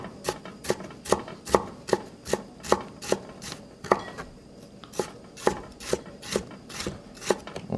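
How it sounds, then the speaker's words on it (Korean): A knife chops ingredients into thin strips on a cutting board in a steady, even rhythm of crisp knocks, about two per second, close and clear with no talking. "저는 좀 더 작게 지금 썰고 있는 중이에요"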